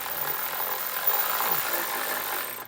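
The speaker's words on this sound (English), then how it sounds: "we'll get ready to start snugging up our bolts" A rapid buzzing tool spins up hitch bolts on a 2024 Kia Sorento while fitting a Curt Class III trailer hitch, a steady close grinding whir lasting a couple of seconds.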